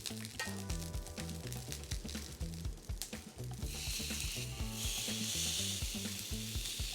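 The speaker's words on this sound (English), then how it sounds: "When the broccolini is grilling, you can actually smell it" Broccolini sizzles steadily on a hot grill, a dense, crackling hiss with rapid pops that swells brighter in the latter half; no talking over it.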